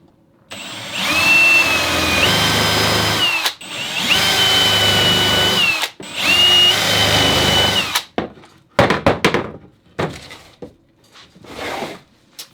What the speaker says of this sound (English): Now I'll drill 3 more holes to secure it to the wall.